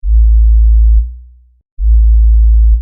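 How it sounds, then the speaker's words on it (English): Clean 55 Hz sub-bass sine wave distorted through an EQ curve, two loud low tones about a second each separated by a short silence, the first fading with a wobbling tail. "how can a simple 55 Hz sine wave, a clean 55 Hz sine wave"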